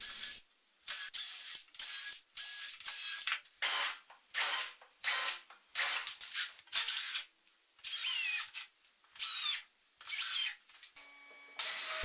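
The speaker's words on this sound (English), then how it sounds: "I marked the positions for the screw holes and pre-drilled and countersunk those" Power drill pre-drilling and countersinking screw holes in wooden boards for a car ramp: about a dozen short, loud, high whining bursts in a steady rhythm, separated by brief quiet pauses, close by and with no talk.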